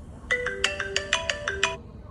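A melodic phone ringtone plays about a dozen bright, evenly spaced electronic notes in quick succession, clear and close, set off by an incoming call from scanning a QR code at a Parma landmark; no voices.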